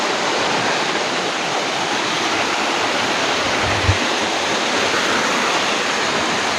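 A waterfall roars in rainy weather, a loud, steady broadband rush of falling water filling the scene without pause, with one brief low thump midway.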